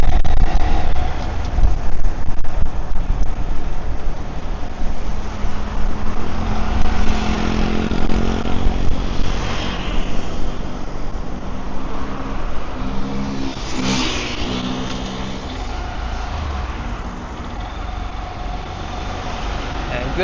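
A motorcycle ridden along a seaside road near Saphanhin Park in Phuket, Thailand, hums steadily under heavy wind rush, its engine note rising and falling slightly over a long continuous stretch.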